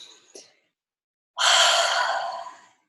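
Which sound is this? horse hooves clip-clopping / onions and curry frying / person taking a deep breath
person taking a deep breath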